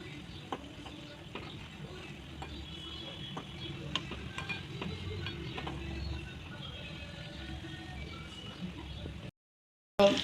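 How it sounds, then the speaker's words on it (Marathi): Milk cream simmers in a pan into homemade ghee, giving a soft steady sizzle with small pops and ticks, close and fairly quiet, ending in a short silence and a brief louder burst. "त्याच्यामुळे मी आता तूप बनवायला ठेवलेलं आहे"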